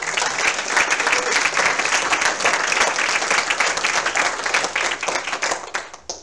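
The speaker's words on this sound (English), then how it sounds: "Would you give yourselves a round of applause?" A congregation applauds itself during a Sunday morning celebration service at Unity of Music City church. Loud, dense applause from many hands fills the room without pause, then thins and fades in the last second.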